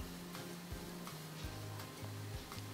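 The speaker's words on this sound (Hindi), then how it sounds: "पिस्ते कटे हुए डाल रही हूँ 2 से 3 खाने के चम्मच और दोबारा से इसको अच्छे से मिक्स कर रही हूँ" A thick bottle gourd barfi mixture with chopped almonds and pistachios is stirred in a pan with a spatula, giving repeated soft scraping strokes roughly every half second over a steady low hum.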